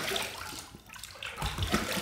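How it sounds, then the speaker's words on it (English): Running water rinses a coated safety razor blade partway through a shave, a steady broadband splashing hiss with a brief dip, close and continuous. "let's rinse."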